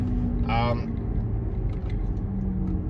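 Constant low interior road noise and engine hum from a car on a road trip, running evenly throughout, with a short burst of talking early on.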